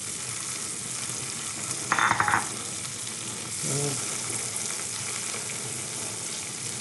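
Vegetables for a frittata frying in a pan and being stirred, a continuous close sizzle broken by a short scraping stir and a brief clatter of utensil against the pan, no voices.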